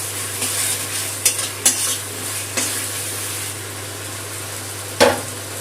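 Mustard and poppy spice paste frying lightly in oil for a katla fish curry, a soft continuous sizzle broken by several sharp clinks of a spoon scraping the pan, the loudest near the end.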